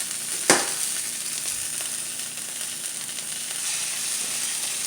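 Eggs sizzling in a hot pan, a steady close hiss that runs throughout after a brief knock near the start, with no talking.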